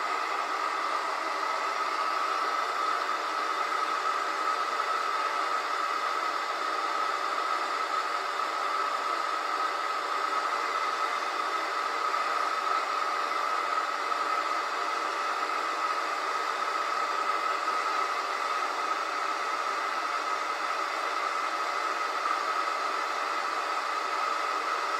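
A hot air station blowing a steady airflow for solder paste reflow on a PCB, producing an even, continuous hiss that stays unchanged throughout.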